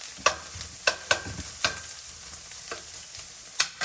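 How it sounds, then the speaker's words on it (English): Steady sizzling of garlic stir-frying in a pan, close up, with sharp scraping taps of a utensil stirring at irregular intervals. "now that we've had that garlic in the stir frying for approximately just a minute"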